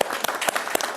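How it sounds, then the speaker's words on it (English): Short burst of audience applause at an arts panel event, dense overlapping handclaps from a small crowd, fairly close and brief. "Maybe we could give a quick round of applause to the Force Space and Alice and all the artists here today"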